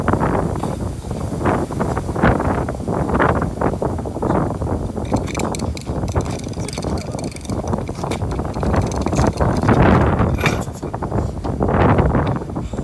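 Strong wind sweeps through an outdoor street performance of umbrella spinning at the roadside station at Hota Elementary School, buffeting the microphone in loud, rough gusts that rise and fall continuously.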